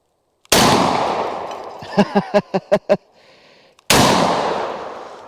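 A shotgun loaded with bird shot fires at a steel target set outdoors, giving two loud, close blasts with long rolling decays, separated by a quick run of about six sharp metallic clacks and pings.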